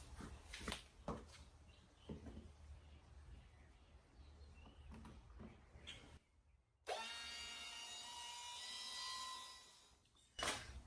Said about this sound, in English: I like to pre-drill my pilot holes.